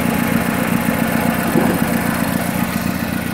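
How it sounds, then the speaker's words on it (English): A Mazdaspeed6 engine idles steadily with a low, even rumble, loud and close, holding a constant drone the whole time with no talking. "You guys see, idling real nice."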